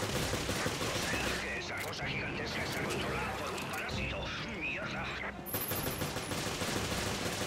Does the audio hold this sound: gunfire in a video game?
yes